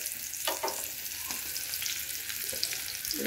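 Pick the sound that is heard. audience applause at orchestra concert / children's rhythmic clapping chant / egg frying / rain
egg frying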